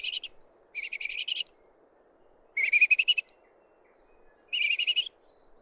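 Orange-fronted parakeets in New Zealand bush give bursts of rapid chattering calls, four clear, close rattling series separated by short pauses against quiet background.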